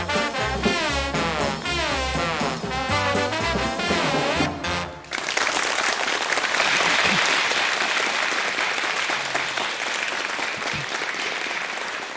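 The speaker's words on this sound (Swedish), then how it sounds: "tacka för dessa utomordentligt entusiastiska applåder" Enthusiastic applause from a studio audience at a Swedish radio panel show, a dense, loud and sustained clatter of clapping that follows a burst of music and continues steadily to the end.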